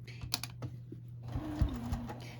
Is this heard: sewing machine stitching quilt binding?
yes